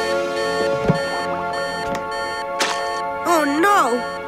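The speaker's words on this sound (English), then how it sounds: "The ice cream alarm." A cartoon ice cream alarm goes off as a warbling, siren-like electronic tone over a steady musical bed, with bright chirps and sweeping pitch bends near the end.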